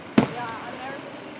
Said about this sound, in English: I'm glad they had fireworks. I love fireworks.